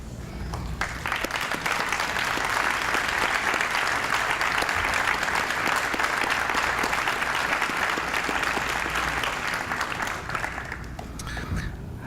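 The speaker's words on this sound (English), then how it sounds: "Please stand for a round of applause." A standing audience at an alumni awards ceremony gives a long round of applause, rising quickly to a dense, loud and sustained clapping that continues for about ten seconds and then tapers off with scattered claps.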